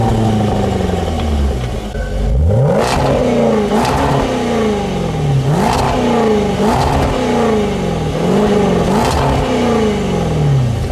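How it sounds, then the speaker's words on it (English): A 2020 Range Rover Velar SV Autobiography's V8 with sport exhaust revs hard several times, each blip rising and falling in pitch with a deep, throaty exhaust rumble, loud and close. "with this big V8, this thing sounds pretty good with the sport exhaust"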